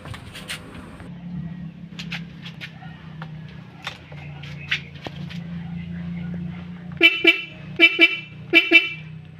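Several short car horn toots sound over a low mechanical hum, clustered in quick bursts near the end after a few faint clicks.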